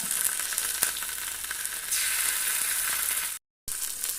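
Garlic ginger paste fries with sautéed onions in a hot pan, giving a steady, loud, close sizzle that cuts out briefly near the end and then comes back.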